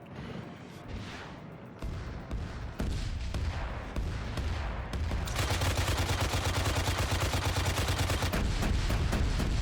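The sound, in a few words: Hind helicopter firing in the video game Arma 3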